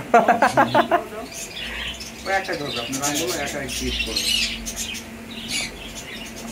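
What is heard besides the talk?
pet birds squawking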